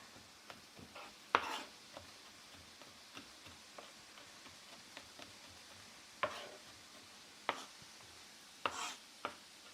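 Knife chopping garlic on a cutting board during meal prep, scattered sharp taps in small irregular bursts, close and fairly quiet against a faint kitchen background.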